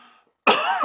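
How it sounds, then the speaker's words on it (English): A single sharp, harsh cough bursts out close to the microphone after a brief moment of quiet, with no speech around it. "I'm trying to fucking talk and instead I want to cough"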